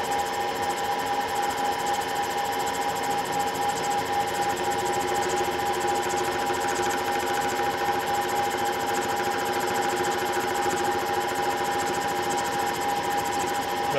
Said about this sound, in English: So we can hear the cutter cutting.